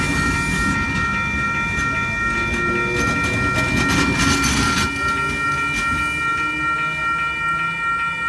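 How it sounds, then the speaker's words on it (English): An Oscar set electric passenger train passes through platform one at Wondabyne Station in New South Wales, a loud, steady rumble with rail clatter building in the middle and easing toward the end, without announcements. "Coming through platform number one is a Oscar set."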